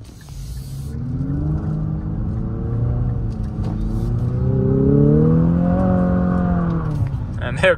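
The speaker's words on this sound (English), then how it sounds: "There comes the lag under hard acceleration." A 2024 Infiniti QX50 Sport under hard acceleration, heard from inside the cabin: a steady engine drone that climbs gradually in pitch as revs build, then drops away at the end.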